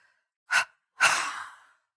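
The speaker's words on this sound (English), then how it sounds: "Expel your breath from the mouth in a double exhalation." Two audible breaths pushed out through the mouth during a seated meditation exercise: a short puff, then a longer, trailing exhale, both close and soft against silence.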